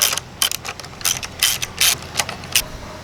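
Ratchet wrench fitted with an 8mm socket loosening a bolt on a Briggs and Stratton 650 small engine, a series of crisp close clicking bursts in uneven strokes, alone without talk.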